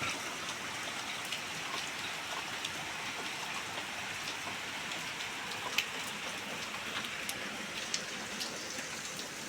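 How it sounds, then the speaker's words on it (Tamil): Steady, dense rainfall pattering on surfaces, a constant hiss with a few louder drops standing out, no voices. "மேகமே இல்லாமல் மழை பெய்யுது இன்னைக்கு தான்"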